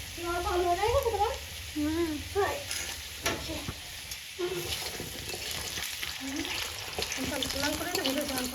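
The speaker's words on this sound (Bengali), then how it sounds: "অল্প কতটা আলু ভাজা হলো দেখিয়ে দেখ" Potatoes fry in a pan with a continuous soft sizzle while someone talks over it, punctuated by occasional utensil scrapes and knocks.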